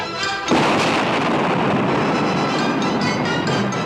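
Grenades blow apart huts in a film scene: a dense, heavy explosive roar bursts in after half a second and rumbles on loudly without letting up, with no one speaking.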